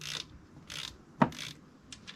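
A torque wrench ratchets while snugging PCV bolts on a Mercedes M276 engine: a handful of crisp, close mechanical clicks in short bursts, one sharper snap in the middle, with quiet between them.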